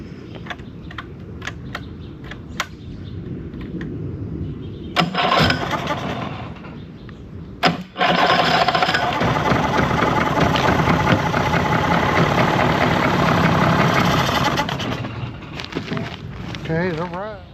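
A 1988 Nissan Tohatsu 70hp NS70A2 outboard motor with a fault clicks and cranks, then catches about halfway through. It runs at a loud, steady idle for several seconds before dropping away, with voices nearby.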